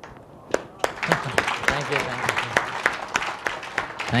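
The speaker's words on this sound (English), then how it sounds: "Alexa, clap." Applause sound effect played by an Alexa smart speaker at a talk, a burst of many hands clapping that rises and carries on steadily for several seconds, fairly loud and close.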